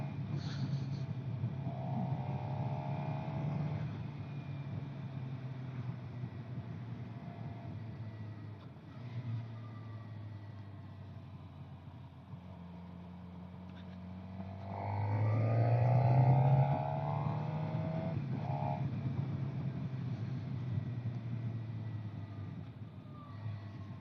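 A Suzuki GSX-R 750 motorcycle being ridden on an early-morning road, its engine droning steadily and rising in pitch and loudness for a stretch midway through, close and continuous with no talk.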